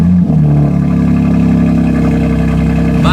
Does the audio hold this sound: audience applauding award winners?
no